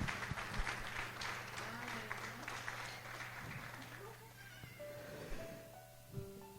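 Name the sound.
church congregation applause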